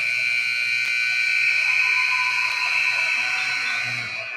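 A loud, sustained electronic buzzer sounds continuously for several seconds at the end of a men's netball championship final, then begins to fade.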